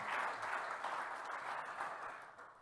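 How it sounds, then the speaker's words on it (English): Audience applause fills a meeting hall, a dense, steady wash of many hands clapping together that holds loud throughout and tapers slightly at the end. "and while we applaud each other."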